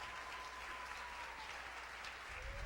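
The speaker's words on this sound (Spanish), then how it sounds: "¿Cuánto le dan un aplauso al Señor por esa palabra?" A church congregation claps during a sermon, a steady, even wash of applause from a large crowd heard somewhat distant and quiet, with a faint tone and low hum underneath.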